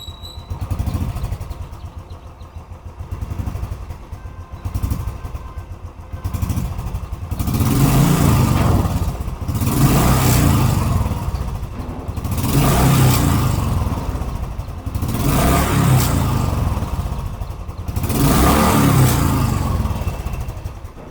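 A BS3/BS4 Royal Enfield Bullet motorcycle on E20 fuel revs close up as the throttle is blipped repeatedly, each rise swelling into a loud thumping roar and dropping back to idle, about five rhythmic bursts.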